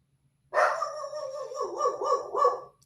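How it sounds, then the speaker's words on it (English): A dog barks and whines in a drawn-out, yelping run of calls, loud and close, with no other sounds around it. "Are you still barking?"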